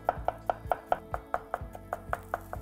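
Steady rhythmic knife chopping of ginger on a board, about a dozen crisp close taps in quick succession, with no talking.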